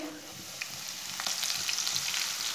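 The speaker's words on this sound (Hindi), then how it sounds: "दो मिनट तक इसे भून लेना" Finely chopped green garlic fries in oil with cumin and dried coriander for a potato curry, giving a steady soft sizzle with light stirring clicks throughout.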